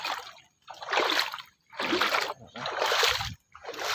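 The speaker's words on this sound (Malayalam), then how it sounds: "വെള്ളത്തിൽ കൂടെ പോകണം" Someone wading through standing floodwater, producing four steady, rhythmic sloshing splashes about a second apart, close and fairly loud with short quiet gaps between steps.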